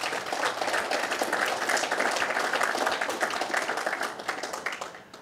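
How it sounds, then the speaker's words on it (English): Audience applause fills the room in a steady, dense wash of clapping at a studio event honoring racing driver Hurley Haywood, fading slightly at the end, with no talk over it. "That requires a big round of applause."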